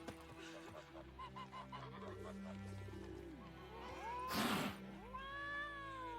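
A cat in The Witcher video game meows several times over a layered game soundtrack, with drawn-out rising and falling cries, one near burst of noise midway, and a final long mew.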